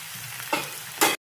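Spices, chilli, ginger, salt and garlic sizzle in hot oil in a pan for urad dal tempering, a steady crackling fry with two brief louder bursts of stirring before stopping abruptly.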